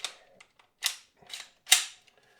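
Slide of an Anderson Manufacturing Kiger 9C-Pro pistol being fitted back onto the oiled frame rails, giving four sharp metallic clicks and clacks spaced through a quiet moment, close and fairly crisp, with no talking.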